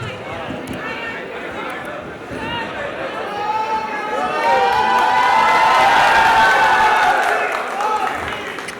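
A large audience at a 5000-episode celebration of the Indian TV serial Yeh Rishta Kya Kehlata Hai claps and cheers steadily, swelling louder midway, with shouts and chatter throughout.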